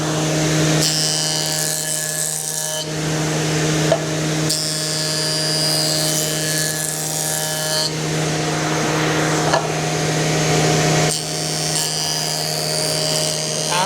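A Felder A951L Silent-Cutter jointer planer with a 510 mm wide table planing wood, a loud steady machine hum with a strong low tone, its pitch and noise rising in several broad swells as boards pass through.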